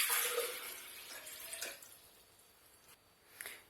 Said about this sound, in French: Je commence par mettre l'eau dans le blender.